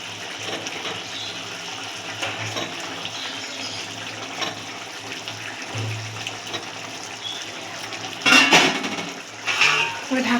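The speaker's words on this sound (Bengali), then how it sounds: "এবার ছেড়ে দেবো এক এক করে মাছ" Tilapia fish pieces go one by one into a pot of boiling spicy gravy in a home kitchen, giving soft bubbling and low simmering hiss. Two sharper splashing, clattering bursts near the end rise above the quiet background.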